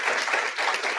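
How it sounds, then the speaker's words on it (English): An audience at an early learning panel event applauds Pastor Carlos with a brief, dense wash of clapping, steady and fairly loud throughout. "we want to give Pastor Carlos a round of applause"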